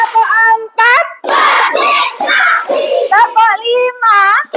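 During a classroom ice-breaking counting game, children clap their hands in short bursts between sung counting phrases, a teacher's voice leading clearly in front with the claps mixed close under the voices.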